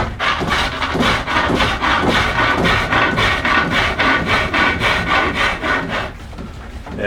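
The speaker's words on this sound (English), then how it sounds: "I'm using a tiny little gouge to" A tiny gouge roughing down a half bead on a turned wooden stool stile on the lathe, a loud continuous rasping cut with rhythmic pulses from the spinning wood, briefly easing near the end.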